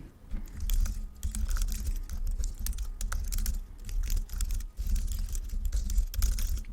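Someone types on a computer keyboard in quick, uneven bursts of close keystrokes with brief pauses between runs, and no one speaks.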